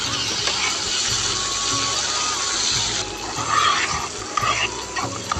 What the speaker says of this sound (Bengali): এখন হচ্ছে সামান্য পরিমাণে একটু পানি দিয়ে আবার ওইটাকে নেড়ে চেড়ে কষিয়ে নিচ্ছি